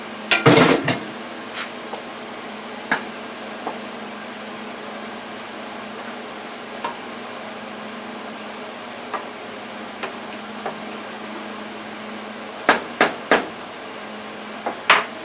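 Boiled potato cubes are tipped into a pot of chili stew with corn, opening with a loud clatter of utensil against the pot, then scattered light clinks and taps, ending in a few more knocks.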